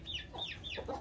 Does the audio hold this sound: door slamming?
no